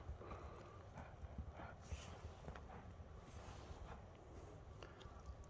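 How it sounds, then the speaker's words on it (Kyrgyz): A herd of horses walks along, hooves clip-clopping in a busy, uneven patter at moderate distance, soft and steady, with faint voices in the background. "Mına үйір аттар жүреді."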